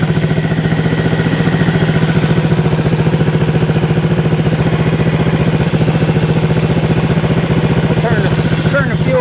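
A 1974 Honda CB360 motorcycle engine runs close and loud at a steady idle, its rapid even exhaust pulses chugging throughout with slight unevenness near the end.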